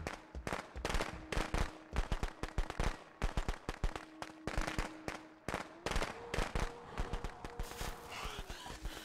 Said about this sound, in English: Kind of a waste of the fireworks there,